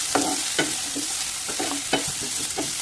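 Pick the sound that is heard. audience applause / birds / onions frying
onions frying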